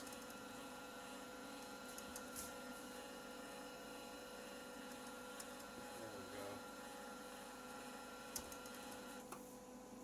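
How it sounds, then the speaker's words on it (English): The wire feed motor of a Lincoln Electric SP-135 Plus welder runs at a steady whine with the wire speed turned up, a constant mechanical hum with a few faint clicks, heard close and alone. "Turn the wire speed up a little. Motor's going to be a bit noisy"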